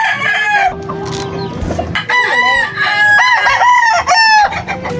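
A white Kelso broad stag rooster crows loud and close, its long harmonic calls repeating several times over about five seconds with no talking.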